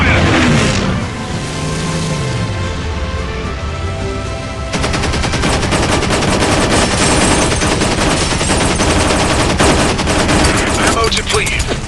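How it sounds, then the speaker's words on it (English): Machine guns fire nonstop in the aerial combat video game War Wings. The rattling bursts are dense and loud, layered with engine roar and occasional game voice callouts. "Taking heavy fire."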